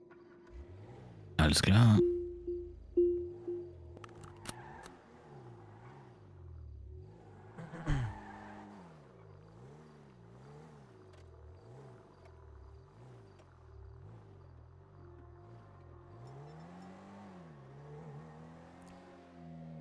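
A car cruising through a GTA V roleplay city, its engine rising and falling in repeated revving swells under quiet background hum, with a brief loud burst early on and a person speaking briefly.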